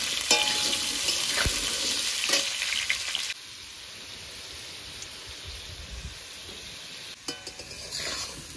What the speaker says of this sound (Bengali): এবার মাছের ডিম ভাজার তেলে আলুগুলো সব ভেজে নেব।